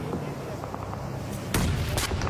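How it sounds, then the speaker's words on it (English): Grenade blasts in a PUBG Mobile esports match give muffled booms over dense game noise, with a sharper burst near the end and a commentator's voice under them. "Nade after nade. It's good damage."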